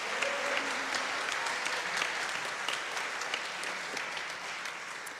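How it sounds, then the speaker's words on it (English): Audience applause fills a church service after a music set with keys, drums and a choir, a steady sustained wash of many hands clapping at moderate distance, slowly tapering near the end. "Give them another applause."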